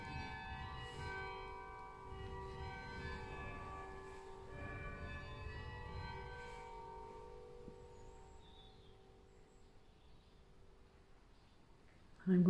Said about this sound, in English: And there's those beautiful bells.